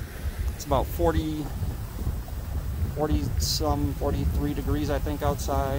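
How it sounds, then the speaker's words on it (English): Wind gusts buffet the microphone outdoors beside a voting line at a Minnesota polling location, a steady rumbling roar beneath someone talking. "You can hear the wind."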